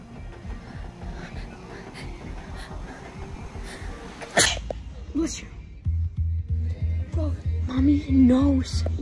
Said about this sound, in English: Your sneeze.